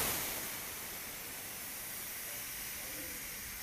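A pressure cooker releasing steam as it depressurizes after cooking salt and pepper chops, giving a steady, loud broadband hiss that runs unbroken for the whole clip.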